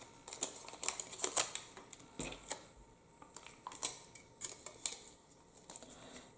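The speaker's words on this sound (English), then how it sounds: "Now we're going to put some tape on the pommel here." Tape being pulled and wrapped onto the pommel of a handmade wooden wand, giving a run of sharp crinkly rips and taps close up, irregular and fairly quiet, with no talking.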